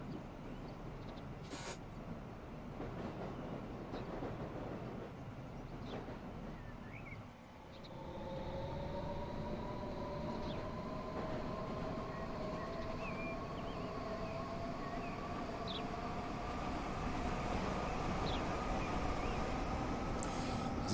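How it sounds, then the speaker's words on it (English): An electric commuter train pulls in on the Uxbridge line in a Transport Fever 2 simulation of London's Metropolitan Line between Harrow and Uxbridge, its rising motor whine and steady rumble building from mid-range over a continuous background hum. "Another train just arrived coming up the Uxbridge line, which has been halted here in the underpass"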